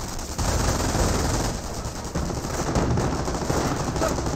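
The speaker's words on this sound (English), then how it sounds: "And the MG42 is still firing away against the garrison." An MG42 machine gun in Company of Heroes hammers out sustained bursts, a dense rattle of rapid fire with brief breaks, loud and continuous against battlefield noise.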